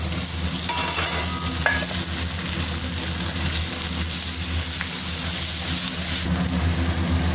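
Onions sizzle and fry steadily in a pan as chopped tomatoes go in, a continuous close hiss with a low hum underneath and no talking.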